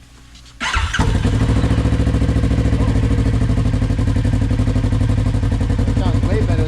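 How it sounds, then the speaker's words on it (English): A Kawasaki KRX 1000 side-by-side with a PLM aftermarket exhaust fires up after a brief quiet start, then settles into a loud, steady, close-up idle with a rhythmic, throbbing exhaust pulse. "Now you fire it up, make sure you don't have any leaks."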